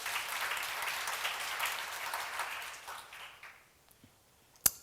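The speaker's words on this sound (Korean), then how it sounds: "박수로 맞아주세요." Audience applause at a church seminar on the Book of Judges, a steady broad clatter of many hands that fades over about three seconds, followed by quiet and one sharp knock near the end.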